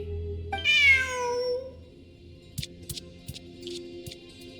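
A single drawn-out cat meow from Genshin Impact, clear and close, followed by several short clicking taps against a quiet electronic hum.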